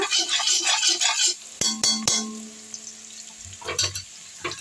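Chopped ginger frying in a pan while fried rice with vegetables and egg is being made at home: steady sizzling for about a second and a half, then a few sharp metallic clinks with a ringing tone fading under quieter crackle.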